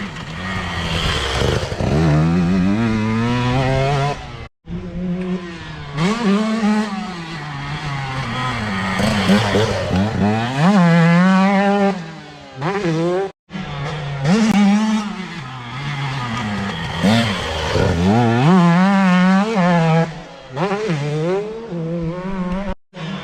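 Motocross bike leaned through a dirt-track turn, its single-cylinder engine revving and dropping in pitch repeatedly as the rider works the throttle, loud and close for over twenty seconds with brief cuts near five and thirteen seconds.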